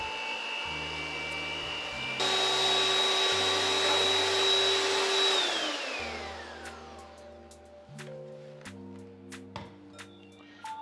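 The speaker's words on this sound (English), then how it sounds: "take our mixer and beat these egg whites until they become nice and fluffy as a meringue" An electric hand mixer whirs steadily while beating egg whites into a fluffy meringue for a sweet potato pie cheesecake, a continuous close motor drone that shifts pitch partway through and then eases down.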